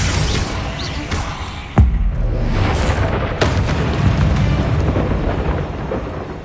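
An Incendio fire spell in the video game Hogwarts Legacy erupts with a loud booming burst. A roaring, rumbling whoosh sustains under it, and a second impact follows.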